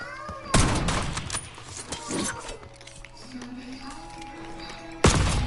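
Gunfire from a Call of Duty multiplayer sniper match, two loud broadband blasts at the start and near the end with quieter game sounds and scattered shots between them, and no talk.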